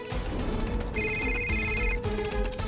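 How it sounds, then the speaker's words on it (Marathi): A mobile phone ringtone chimes in a steady tonal pattern for about a second, set against a dense, busy background sound that continues around it. "बाबांचा फोन येतोय."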